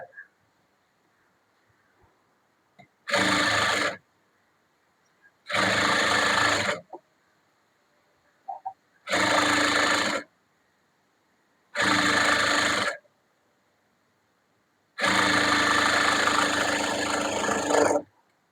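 A sewing machine stitching a folded half-inch blouse hem runs in five separate bursts of steady whirring, each a second or two long with a longer final run, separated by near silence and small handling sounds.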